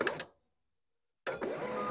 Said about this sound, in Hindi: और हमारा जो प्रिंटर है वो प्रिंट करेगा हमारा परफेक्ट चेक।